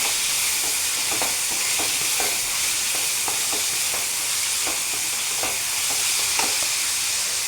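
Prawns being stirred in a hot pan for chemeen roast, a steady bright sizzle overlaid with regular scraping strokes of the spoon roughly every half second, close and with no speech.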